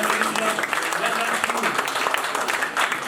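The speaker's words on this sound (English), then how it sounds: "Give them a handsome round of applause." Audience applause for a quiz team at a banking quiz semi-final, a dense, steady round of clapping that carries evenly from start to end.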